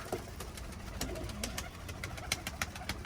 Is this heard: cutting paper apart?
no